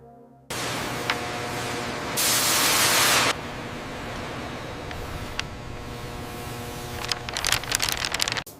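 Spray gun applying white base coat paint to a Boeing 787 Dreamliner in a factory paint hangar, a steady airy hiss running throughout with a louder, harsher burst of spraying partway in and faint clatter near the end.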